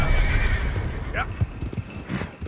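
A horse in the Red Dead Redemption 2 video game gives one clear rising whinny amid rumbling hoof clip-clops, with a person talking over the game sounds.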